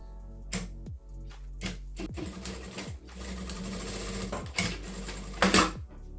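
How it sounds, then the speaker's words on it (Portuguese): A sewing machine stitches pink thread into fabric after a screw adjustment, giving bursts of rapid mechanical clatter with short pauses between runs, close and clear, with no talking. "E vou costurar aqui para vocês verem"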